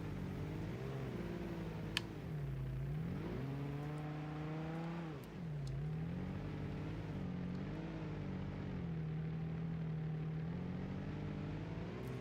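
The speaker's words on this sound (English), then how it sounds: "the engine you hear running in this is actually the V6" A steady V6 engine drone from a Ford Ranger in the game BeamNG, pitch rising and falling as revs climb and ease back several times, continuous and fairly close, no voices.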